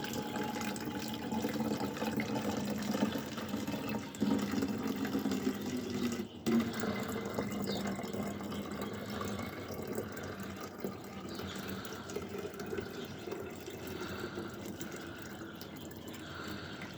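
Lukewarm water poured from a container into a one-litre bottle, a steady continuous gurgling fill running throughout at moderate level with no talk.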